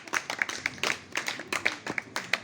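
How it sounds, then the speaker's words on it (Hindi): Class 9 students clapping for a classmate at a school art and craft prize ceremony, rhythmic, fairly sparse handclaps close by, moderately loud with a steady beat. "बच्चों जोरदार तालियां प्रीत के लिए भी।"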